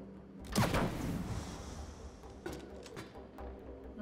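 Gunfire in the video game It Takes Two, with a loud burst of shots followed by a few scattered later reports over a busy game soundscape.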